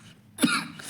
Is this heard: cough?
yes